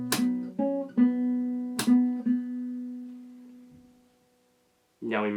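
Fingerstyle acoustic guitar plays a short chorus passage from a song, with plucked bass notes, slapped percussive hits and open strings ringing out, the last chord decaying to silence before a new strum begins.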